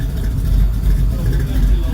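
A Bentley engine idles low and cold, about 550 rpm, with a deep, close, steady rumbling throb.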